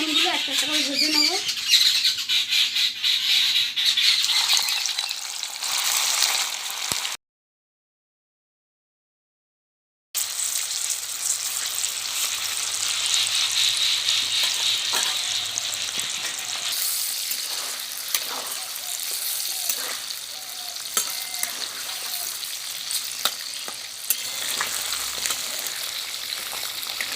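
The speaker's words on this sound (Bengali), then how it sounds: "এবার আমি চিকেনগুলো একটা একটা করে ভেজে নেব" Chicken pieces shallow-fry one by one in hot white oil, a close, steady sizzle and crackle with stirring. Some squawk-like noises come early, a few seconds of silence break it midway, and the sizzle resumes.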